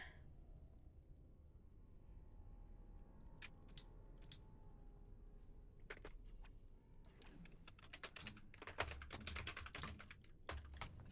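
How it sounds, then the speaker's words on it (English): Frantic computer-keyboard typing during a Dragon Age: Origins play session: quiet scattered taps at first, building into dense rapid bursts of keystrokes toward the end, close and fairly faint. "Frantic typing."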